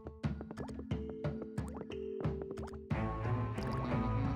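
Water trickling and dripping through a pipe in the Luigi's Mansion 2 Dark Moon video game, a run of rhythmic plopping drips that swells into a fuller, steady gurgling flow near the end.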